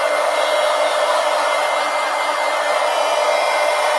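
Hair dryer blowing on a mixed media collage, a steady loud close-up whoosh that holds unchanged throughout, alone without voices.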